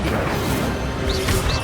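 Fire spell bursting in Hogwarts Legacy, a dense, loud crackling whoosh that fills the whole moment with steady roaring energy and a few rising magical swirls near its end.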